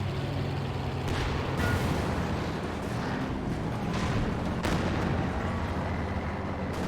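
Incendiary mortar rounds land on a World War II battlefield in Company of Heroes 2, booming and rumbling continuously through a dense wash of distant artillery and gunfire, with several sharper impacts standing out.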